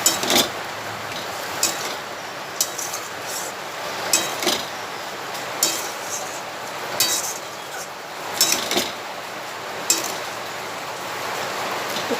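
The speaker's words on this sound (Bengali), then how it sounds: "মশলাটা একটু কষিয়ে নিই।" Spice paste for a soybean curry being stirred and fried in a pan, steady hiss with repeated sharp clinks of a spoon against the pan at irregular intervals, no talking.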